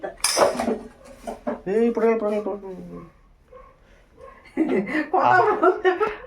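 Dishes and cutlery clink and clatter as rice is served onto plates at home, heard in short bursts under steady close talking and a brief chuckle.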